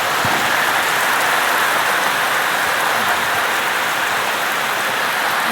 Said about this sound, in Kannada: ಮಳೆ ಸಿಕ್ಕಾಪಟ್ಟೆ.